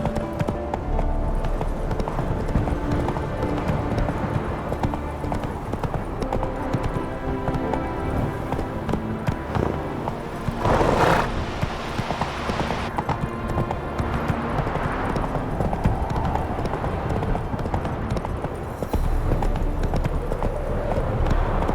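Roach, a horse in The Witcher 3, gallops along with steady, loud hoofbeats over a music-filled game soundscape, the rhythmic clip-clop continuing throughout with a brief burst of noise midway.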